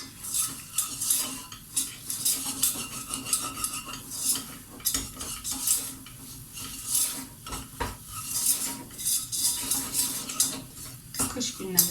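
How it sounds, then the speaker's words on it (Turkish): A spoon scrapes and stirs flour roasting with carrots in a pot, giving repeated rhythmic scraping strokes over a soft, steady sizzle, close and clear. "Unumun da kokusu çıkana kadar güzelce kavuracağım havuçlarımla birlikte."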